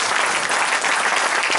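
A church congregation claps together, a thick continuous wash of applause that stays loud and even from start to finish.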